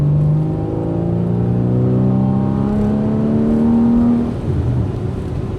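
A Porsche 981 Boxster S with a six-speed manual and sport exhaust accelerates at full throttle, its loud engine note climbing steadily in pitch, then dropping briefly near the end, heard close up and alone.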